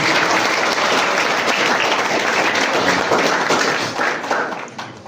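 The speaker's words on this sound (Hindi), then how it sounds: "एक बार फिर से जोरदार तालियां" A crowd at a drama festival applauds loudly, dense steady clapping that carries on and then tapers off toward the end.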